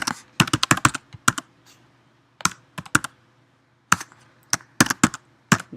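Keys clacking on a computer keyboard in short bursts of rapid strokes separated by brief pauses, close and fairly clear with no voices.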